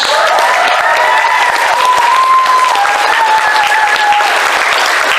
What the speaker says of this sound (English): If you've been before, give them all a round of applause.